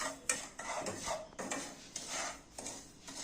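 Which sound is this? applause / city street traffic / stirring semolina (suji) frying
stirring semolina (suji) frying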